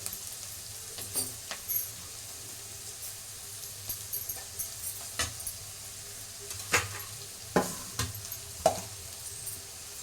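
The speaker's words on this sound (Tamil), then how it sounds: "இப்போ கேரட்டு பீன்ஸும் நல்லா வதங்கிடுச்சு" Carrots and beans stir-frying for chicken fried rice, a soft steady sizzle under repeated scrapes and clinks of a spatula against the pan, with the strokes growing more frequent toward the end.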